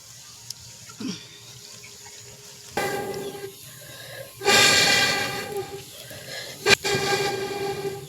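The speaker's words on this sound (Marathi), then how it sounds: "पाणी ओतून घ्यायचं." Water splashes and pours in several bursts into a metal pan of cooked greens, with brief clatters between the pours and no talking.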